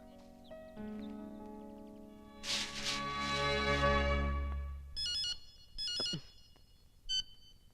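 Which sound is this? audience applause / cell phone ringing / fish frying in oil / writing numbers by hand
cell phone ringing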